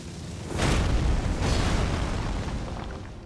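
A weapon art attack from the Elden Ring Shadow of the Erdtree video game lands as two heavy, close booming bursts about a second apart. A rumbling tail fades slowly after them.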